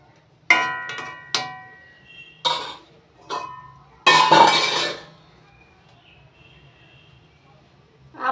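A spoon scrapes and clinks against a cooking pot as vegetables and chopped tomato are stirred, several separate bursts of clattering with quiet gaps between them, close and distinct.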